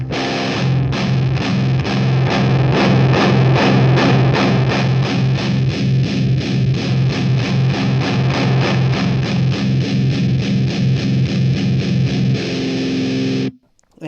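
Heavily distorted guitar tone through a Crate GX130C amp dialed for a heavy, aggressive sound, playing fast, even palm-muted chugging riffs for about thirteen seconds, loud and alone, then a sudden stop with a brief final hit.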